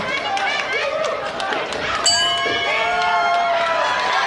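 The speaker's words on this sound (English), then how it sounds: "Crowd cheering for both fighters right here." A boxing arena crowd at a WBC Asia Continental welterweight title fight roars with loud, sustained cheering and shouting, a dense wall of voices that swells midway and stays at full intensity.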